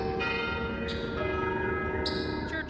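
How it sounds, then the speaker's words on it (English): Church bells ring with a rich, sustained tone, several strikes layered over one another, resonant and moderately distant. "Church bells and singing birds greet the woman in the hat."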